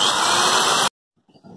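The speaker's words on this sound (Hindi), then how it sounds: "अब मैं ड्रिल की मदद से इसके अंदर सुराख करूंगा।" Electric drill boring a hole into an aluminium drink can, a loud steady high-pitched whine for just under a second that cuts off abruptly, followed by faint small clicks and handling sounds.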